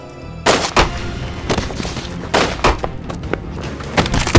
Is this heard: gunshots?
yes